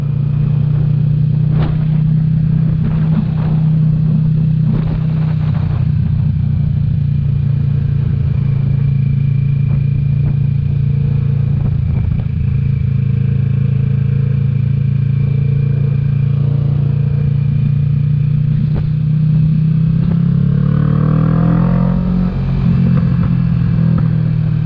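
Kawasaki Vulcan S 650 motorcycle rides along a road on a windy day, its engine droning steadily up close with wind buffeting, a few clattering knocks, and a rise in revs near the end.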